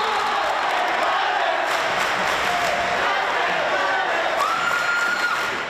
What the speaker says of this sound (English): The crowd went wild as Justin made their first shot.